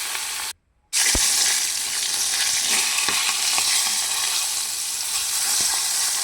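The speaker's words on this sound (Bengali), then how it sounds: "মাছগুলো এক এক করে ছেড়ে দিলাম।" Pieces of fish fry in hot oil in a wok, making a loud, steady sizzle after a brief cut to silence. Light ticks and clinks of a utensil sound now and then, with no talking.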